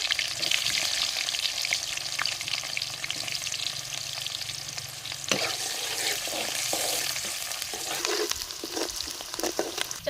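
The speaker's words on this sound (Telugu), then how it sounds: "పోపు దినుసులు అయితే చిట్టపట్లాడుతున్నాయండి కట్ చేసుకున్న ఆనియన్స్ అయితే రెండు వేసాను" Cumin, fenugreek and mustard seeds crackle in hot oil as chopped onions go in, a loud, continuous close sizzle with stirring scrapes and occasional clinks, for a fish stew cooked outdoors in a garden.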